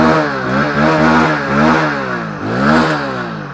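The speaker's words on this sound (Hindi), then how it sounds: "आइडियल कंडीशन पर इंजन साउंड सुनो, एग्जॉस्ट नोट सुनो, थ्रॉटल देता हूँ।" A Hero Splendor Plus Xtec 2.0 motorcycle engine in ideal condition revving up and down twice, its exhaust note rising and falling loudly and close, with no talk.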